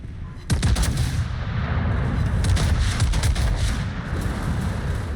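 Video game gunfire crackles in dense, rapid bursts after a sudden start, staying loud and sustained with heavy low rumble and overlapping shots, with no voices.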